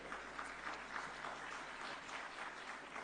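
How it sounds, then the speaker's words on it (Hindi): Applause from a conference audience welcoming Haryana's chief minister Nayab Singh Saini onstage at a startup conclave, a steady, fairly faint wash of many hands clapping that holds evenly for about three seconds with no voices over it. "तो पहले तो जोरदार तालियों से उनका स्वागत किया जाए।"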